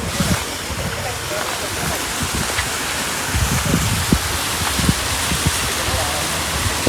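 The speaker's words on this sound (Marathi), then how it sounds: "हा जो पूर्ण पाणी आहे ना धबधब्याचा, पूर्ण इथून खाली जातो" Waterfall water rushing down toward Bhasta dam in the Kasara ghat, a continuous broadband roar close to the microphone with some wind buffeting and a voice talking over it.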